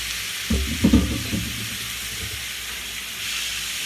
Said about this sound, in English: Throw that shrimp up in there.